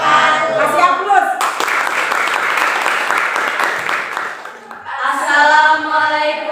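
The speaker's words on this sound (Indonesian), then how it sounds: "Kasih aplaus." An audience claps steadily after a school presentation, with a dense wash of applause lasting several seconds between stretches of a voice speaking.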